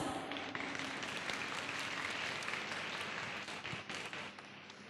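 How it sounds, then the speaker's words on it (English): An audience applauds steadily for a drum kit performer at an event, the dense clapping tapering off toward the end. "Please give him a round of applause."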